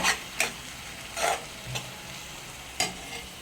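Onion, tomato and capsicum being sautéed for pav bhaji, a quiet low sizzle punctuated by a handful of sharp spatula scrapes and stirs spaced irregularly across the moment.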